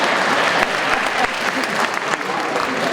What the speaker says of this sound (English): Oh, you don't have to clap